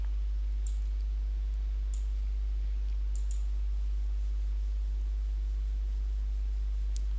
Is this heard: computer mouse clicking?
yes